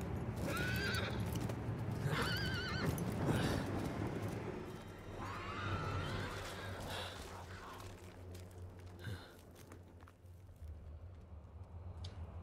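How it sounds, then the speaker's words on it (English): A horse in the video game Diablo whinnies loudly several times over steady background rumble, with hooves clip-clopping and a fading rhythm toward the end. "And the horse is banging"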